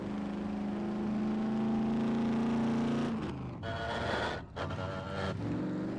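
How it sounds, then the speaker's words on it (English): A car in the SCUM video game drives at speed with a sustained engine whine, which is broken near the end by rough, grinding gear changes and short dips in the engine note. "Definitely a lot more gear grinding there."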